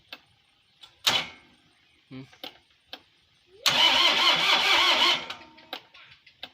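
A Yanmar 45 hp tractor engine cranks, then catches with a loud rough burst that runs for a second or so and drops away. Voices speak before and after the start.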